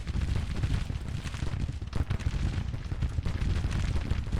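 Civil War artillery firing in Grand Tactician: The Civil War, a dense continuous rumble of distant cannon and gunfire blended into a steady battle roar.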